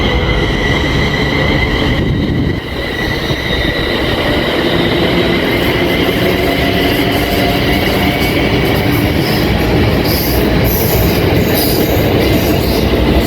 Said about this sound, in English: now departing a minute late is the 1403 London North Western Railway service from Birmingham New Street